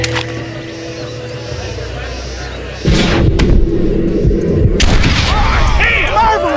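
Gunfire in the Western video game Red Dead Redemption: a heavy, booming report cuts in sharply near the middle, followed by a second burst of blasts and crackling action sounds.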